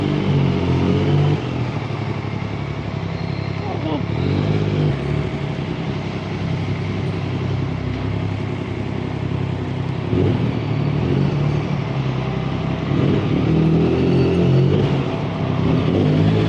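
Motorcycle riding through Dubai streets, with a steady engine rumble and occasional revving surges mixed into continuous road and traffic noise, fairly loud throughout with no talking.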